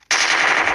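A G36 assault rifle fires a sustained, loud automatic burst of gunfire that starts abruptly and holds steady with dense rapid shots.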